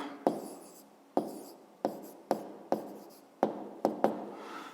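A pen writes an answer on paper in a series of quick, close strokes, about nine distinct scratches with short pauses between, quiet and alone.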